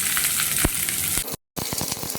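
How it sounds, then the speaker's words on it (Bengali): Chopped onion fries in a pan for a Bengali kabuli chana dish, giving a steady, loud sizzle with a few sharper crackles. The sound cuts out briefly, then the frying resumes. "পেঁয়াজটা ভাজা হতে হতেই আমি একটা মশলা বানিয়ে নেব"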